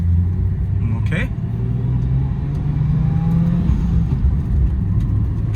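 A 1998 Nissan Skyline R34 25GTT out on a test drive, its engine giving a continuous low, steady rumble from inside the cabin with a faint rise in revs partway through.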